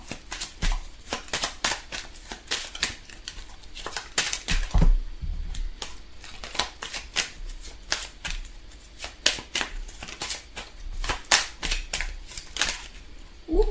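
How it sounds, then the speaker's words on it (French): Tarot cards are shuffled by hand in a rapid run of crisp riffling slaps and flicks, with a few cards dropping out; close and steady throughout, with no talking. "Là, toutes les cartes tombent."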